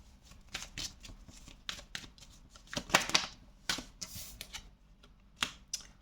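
Tarot cards shuffled by hand at close range, giving quick irregular bursts of riffling and soft slaps that come and go over several seconds, with no talking.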